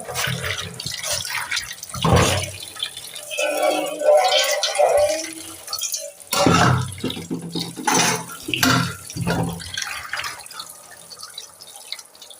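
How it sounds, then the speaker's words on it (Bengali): Fish being washed under running tap water, splashing and gushing in bursts with drips and handling noises between the pours, close by. "মাছগুলো ধুয়ে নিই তো যেখানে মাছগুলো দিয়ে দিচ্ছি"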